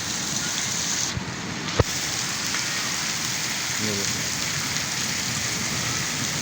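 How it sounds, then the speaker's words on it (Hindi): Heavy rain pours steadily in Attock during a cold spell, a constant dense hiss of drops on surfaces, close and unbroken, with one sharp knock partway through. "और ये बारिश बहुत तेज़ रफ्तार से जारी है।"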